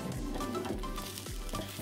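Garlic rainbow trout crackles in an air fryer basket as it is turned, a close, continuous sizzle with soft scraping and clicks of the flip.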